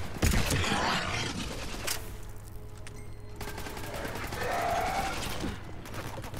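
Rapid automatic gunfire and explosive effects in the video game Mass Effect 3, a battle on Thessia, with a sharp burst at the start and sustained firing throughout, loud and close.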